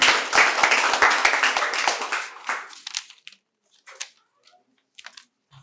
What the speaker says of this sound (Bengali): সুদীপ্ত স্যারের জন্য আবার জোরে হাততালি হয়ে যাক।